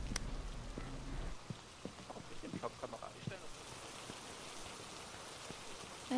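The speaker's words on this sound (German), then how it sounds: "Es regnet." Rain in the video game Phasmophobia settles into a constant low hiss of falling drops outside a house with a white garden fence, following a loud opening burst and a few scattered knocks, with a voice faintly present.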